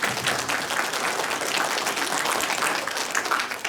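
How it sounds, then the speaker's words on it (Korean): Audience of civil servants applauding at a city hall gathering with the Jecheon mayor, a dense, steady wash of clapping filling the whole stretch without a break. "박수 한번 부탁드리겠습니다"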